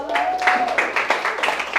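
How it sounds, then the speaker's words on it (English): Audience applause at a business seminar for an attendee from Orlando, Florida, a crowd clapping in a loose, uneven patter with distinct individual claps, with a voice and a faint tonal whine audible early on. "Clap it up for him."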